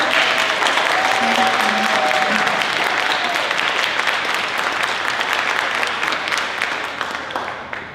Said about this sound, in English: a huge round of applause for my amazing team